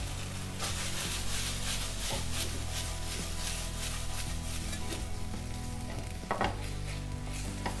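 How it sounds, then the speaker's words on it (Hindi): Paneer pieces fry in a pan with chilli and tomato sauces while being stirred, giving a loud, steady close-up sizzle with scraping strokes and a sharper knock near the end. "मिक्स कर लेंगे अच्छी तरह से सॉसेस के साथ।"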